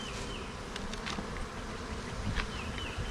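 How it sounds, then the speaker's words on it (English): Honey bees swarm beneath a hive box set on the ground, a dense steady buzz from many insects close by, with individual bees droning past the microphone now and then. "there's a tons of bees underneath it"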